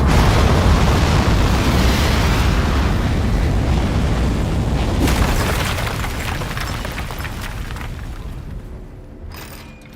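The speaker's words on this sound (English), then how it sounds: "We are go for launch. 10, 9, 8, 7. Modesty panel set to flight configuration. 3, 2, 1. We have liftoff." A rocket lifts off in the Desk Job video game, with a loud, sustained rumbling roar that gradually fades over about nine seconds before a faint knock at the end.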